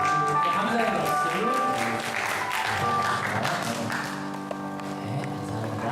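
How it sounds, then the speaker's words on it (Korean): A church congregation at a Sunday worship service claps together, a dense, sustained patter of many hands with tonal music or singing layered underneath and voices mixed in. "감사의 박수."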